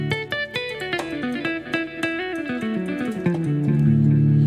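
Clean, glassy electric guitar sound from a keyboard's "single clean" patch: a quick run of plucked notes stepping through a melody, ending on a held chord.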